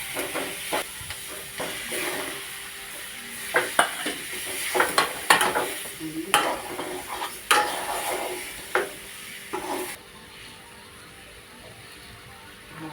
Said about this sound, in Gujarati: પલાળેલા પૌવા આપણે આમાં મિક્સ કરી દેવાના છે